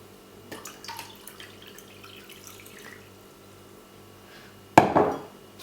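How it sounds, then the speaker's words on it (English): Water poured into the tank of a Tommee Tippee Perfect Prep formula machine, heard as a short, loud splashing pour near the end after quiet clinks and handling noises. "So I'm just going to put a bit more water in."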